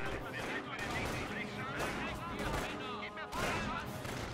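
Grenades exploding in Company of Heroes, a World War II strategy game, with a dense stretch of battle noise, bursts and gunfire-like cracks layered under game music and voices throughout.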